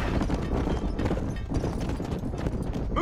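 Hoofbeats of a galloping horse in Red Dead Redemption thud rapidly and steadily under outdoor game ambience, close and continuous, with a brief call at the end.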